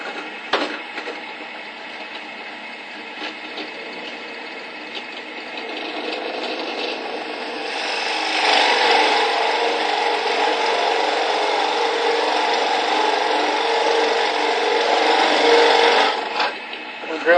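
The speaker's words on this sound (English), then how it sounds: "We'll do that with a 1-inch spade bit." A drill with a 1-inch spade bit grinds steadily into wood for a birdhouse, its rasping whine building louder partway through and easing off near the end.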